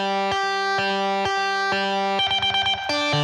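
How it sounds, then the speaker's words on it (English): Distorted amp tones with reverb and delay in a Mozart-style classical crossover hard rock mix, loud sustained chords changing every half second, then a faster choppy rhythmic section, with no talking. "Those are distortion amps. And my reverb and delay."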